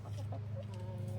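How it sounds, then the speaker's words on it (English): A hen clucking in short, close bursts over a steady low hum, a few quick clucks in a row from a backyard flock. "She is the dominant chicken."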